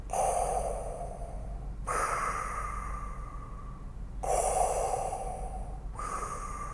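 Darth Vader's mechanical respirator breathing rises and falls in slow, loud hissing cycles, two full inhale-exhale pairs heard alone up close.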